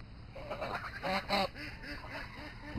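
Geese call from close by in a yard of birds. Several nasal honks come in a loose, uneven run, two of them louder than the rest.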